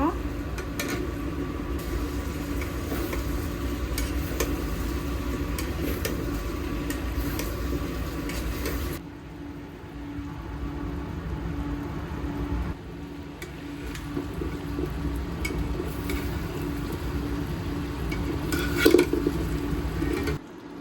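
Spoon scraping and clattering in a cooking pan as fried chicken is stirred with ginger-garlic paste and tomato, a faint sizzle underneath, continuous stirring against a steady kitchen hum.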